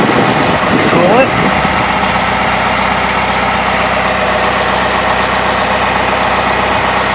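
A 2008 Chevrolet Malibu LT sits idling after a coolant top-off, its engine a loud, steady hum close by that holds unchanged throughout, starting with a brief clunk.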